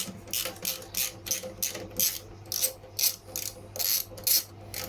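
A ratchet with a 13 socket undoes a cylinder roller bolt, making a close, rhythmic series of sharp clicking bursts in quick repeated strokes with no talking.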